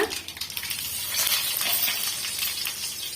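Fenugreek seeds and spices spluttering in hot oil for tomato rasam, a dense steady crackle and sizzle with scattered sharp pops, close and continuous.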